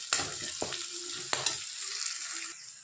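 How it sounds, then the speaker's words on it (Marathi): Onion and green chillies sizzle in hot oil with garlic in a kadhai wok while cooking cabbage manchurian. A steady close sizzle runs throughout, broken by a few sharp spatula knocks and scrapes, with no voices. "त्यानंतर कांदा, हिरव्या मिरची पण टाकलेली आहेत परतायला।"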